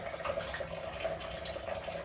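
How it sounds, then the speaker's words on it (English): Water dripping from a leaking pipe seal in a bathroom, with the supply shut off: soft, steady watery trickle with faint irregular drips, close and low in level. "that drip there, obviously the water is off at the moment"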